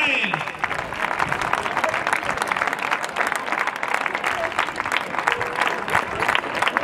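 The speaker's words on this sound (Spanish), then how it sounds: "¡Fuerte el aplauso para él!" An audience at the final of a recortes bull-dodging contest in Masueco breaks into loud, sustained applause, dense clapping that fills the space, with crowd voices mixed in.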